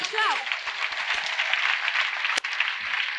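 A congregation applauding during a French-language church service, steady sustained clapping throughout with a brief voice at the start and a sharp knock near the end.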